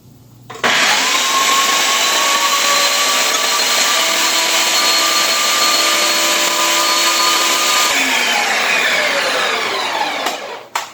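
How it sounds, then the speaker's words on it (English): A food processor whirs loudly as it blends walnuts into walnut butter, its motor starting abruptly, holding a steady high whine with a slight pitch drop near the end, then cutting off. "it does take a while for your nuts to actually blend down and become a smooth and creamy paste"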